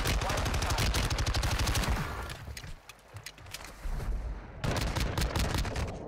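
Rapid bursts of automatic gunfire ring out in an online shooter video game, dense repeated shots loud and close, pausing briefly mid-clip before heavy firing resumes.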